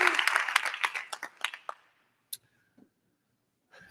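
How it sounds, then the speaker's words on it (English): Keynote audience applause bursts out loud and dense, thins into scattered claps and dies away within about two seconds, leaving near silence broken by a couple of faint knocks. "I hope you would give him another round of applause for all the work that he has done"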